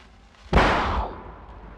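A firecracker goes off in a 1980 French slapstick comedy gag, a single sharp loud bang with a rumbling tail that fades over about a second.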